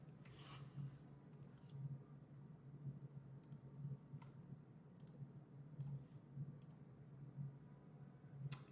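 Typing on a computer keyboard during a coding session, sparse quiet keystrokes in small clusters over a low steady hum, with a louder click near the end.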